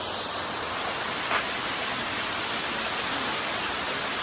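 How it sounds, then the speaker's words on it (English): A waterfall beside the Great Allegheny Passage trail near West Newton, Pennsylvania, gives off a steady broadband rush of falling water that stays constant and fairly loud, with only a brief faint click partway through. "There's a lot of different waterfalls on the trail,"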